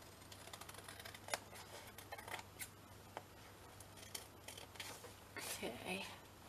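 Scissors cut paper while an envelope journal is crafted, giving a series of faint, irregular snips and crisp clicks against quiet room background.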